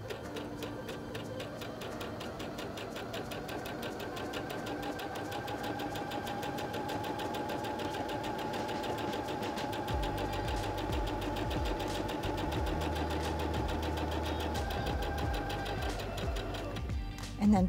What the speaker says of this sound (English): Step on the foot control to sew forward again.